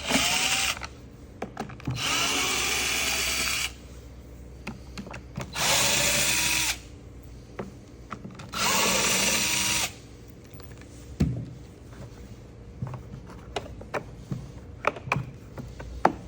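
Cordless drill running in reverse to back out four screws on a vacuum cleaner, three sustained whirring bursts of a few seconds each separated by pauses, close up, with light handling clicks and knocks between them.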